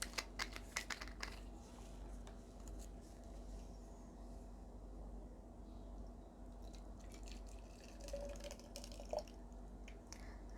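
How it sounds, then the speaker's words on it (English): Homemade hand sanitizer poured into an empty bottle, a faint, close trickle and light plastic clicks and taps over a low steady hum, with no talk. "I'm going to pour this in an empty bottle that you can store it."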